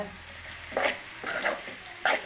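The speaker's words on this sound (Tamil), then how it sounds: "எண்ணெய் ஊற்றி கடுகு போட்டு வெங்காயம் போட்டு பூண்டு மட்டும் நாலு நெச்சிக்கு போட்டு" Mustard seeds, onion and garlic frying in hot oil as a tempering for beetroot stir-fry, a low sizzle broken by a few brief stirring scrapes in the pan, close and quiet, with no voices.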